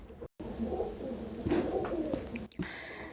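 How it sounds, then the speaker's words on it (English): A pigeon or dove coos softly, a few low rounded calls over quiet background noise with brief gaps, heard alone without talk. "That's the bird."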